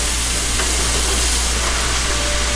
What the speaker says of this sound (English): You want to start to go from the bottom of your pan up and just stir fry as you go